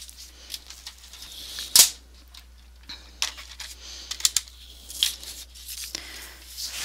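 Paper for a pop-up photo album being cut, with sharp close snips and crisp rustling handling sounds in irregular bursts, no talking.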